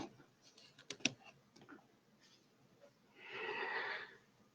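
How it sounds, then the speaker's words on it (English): Quiet typing on a computer keyboard produces a short burst of light, rapid key clicks, followed by a soft breathy rush of noise, with no speech. "I was just typing and not talking"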